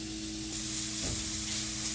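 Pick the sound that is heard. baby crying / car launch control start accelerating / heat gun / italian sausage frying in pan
italian sausage frying in pan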